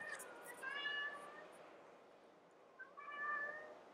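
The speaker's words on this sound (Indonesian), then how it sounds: "Aduh, kucing gue." A cat meows twice, drawn-out and wavering, fairly faint and close, with a brief pause between the calls.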